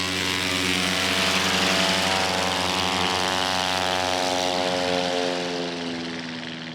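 STOL propeller plane at a short takeoff and landing competition, climbing steeply on takeoff: a loud, steady engine and propeller drone that holds close, then slowly fades as the aircraft pulls away.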